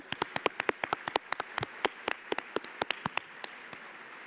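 Audience applause at an award dinner: scattered, crisp hand claps from a modest crowd, fairly even and tapering slightly.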